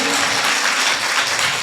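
A church congregation in Narasaraopet claps loudly and continuously, a thick wash of hands striking together with no pauses.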